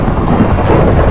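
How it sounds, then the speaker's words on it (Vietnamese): Heavy rain pours down with deep rolling thunder, a loud, dense and continuous roar close by with no voices. "bắt đầu trời đã mưa luôn rồi kìa mấy bạn ơi"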